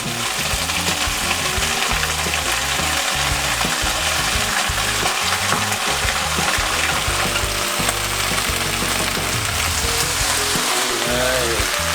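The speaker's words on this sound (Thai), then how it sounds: "ผัดให้ผักคะน้ามาเริ่มสุกนิดนึงก่อน แล้วเราก็ใส่ปลากระป๋อง" Chinese kale and canned fish stir-fried in a pan, a loud continuous sizzle like heavy rain, with constant stirring scrapes throughout and no talking.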